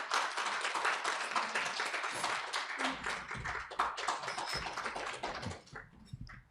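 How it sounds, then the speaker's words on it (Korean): An audience at a Korean legislative policy forum on energy policy claps to welcome a vice minister, a dense run of close, crisp hand claps that thins out near the end. "큰 박수로 맞이해 주시기 바랍니다"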